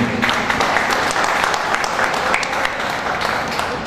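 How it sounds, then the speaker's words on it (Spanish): Loud, close applause for a speaker at a community gathering, with crisp individual claps in a continuous dense burst throughout. "Un aplauso para Valentín."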